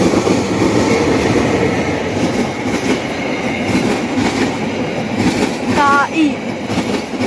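Argo Wilis passenger train of Indonesian railway KAI, in special Independence Day livery, rumbling steadily past at close range with continuous wheel and car noise and a brief squeal or horn-like tone near the end.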